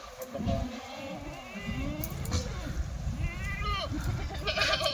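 Kathiawari goats newly unloaded from a truck bleat repeatedly, several overlapping wavering cries at moderate distance over a busy outdoor background with faint voices.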